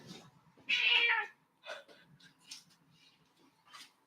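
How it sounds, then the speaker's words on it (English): A house cat meows loudly once, then follows with a few softer, shorter meows and little vocal sounds, close by in a quiet kitchen. "the cat is screaming in the background."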